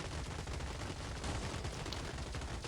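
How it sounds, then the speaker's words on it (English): Rapid, dense gunfire from the robot combat game Gladiabots, with a machine gun firing in continuous overlapping bursts that sound loud and steady throughout, with no voices. "they are using the opportunity to get some good shots off this machine gun"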